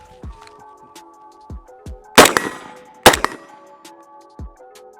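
A few gunshots ring out at a shooting range, two sharp loud cracks with a metallic clang from steel targets, among fainter distant pops and a brief voice.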